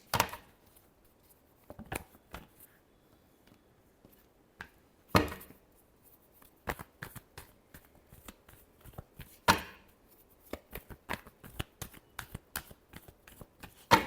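Tarot cards being shuffled by hand, with crisp riffling and slapping bursts that come in irregular clusters between quiet gaps, close and fairly soft, with no talking.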